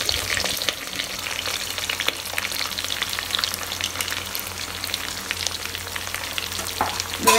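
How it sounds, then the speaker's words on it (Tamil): Onions sizzle and crackle in hot oil over high flame, being stirred for mushroom biryani, with a dense, continuous frying hiss close up and no talk. "வெங்காயம் எல்லாத்தையுமே போட்டு நல்லா வதக்கிடலாம்."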